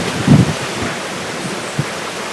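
A waterfall in the Amazon rainforest roars as a loud, steady broadband rush, with a brief thump of wind or handling near the start.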